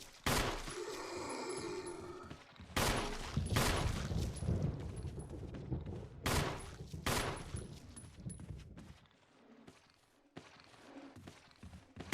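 Repeated gunfire from Chris in the survival-horror game Resident Evil, with several loud separate shots spread across the clip, booming echoes after each one and scattered footsteps in the gaps.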